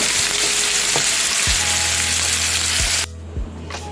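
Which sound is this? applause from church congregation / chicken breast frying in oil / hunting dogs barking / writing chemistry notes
chicken breast frying in oil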